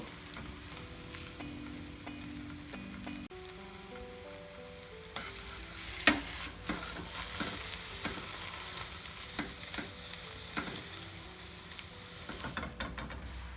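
Beaten eggs fry in a pan for a Japanese-style Bangladeshi egg roll, with a soft, constant sizzle broken by scraping and clinking of a utensil and brief louder spatters partway through.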